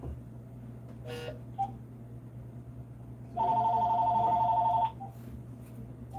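An electronic telephone tone signals an incoming caller on a radio show, a steady beep lasting over a second, with a short earlier chirp and low background hum.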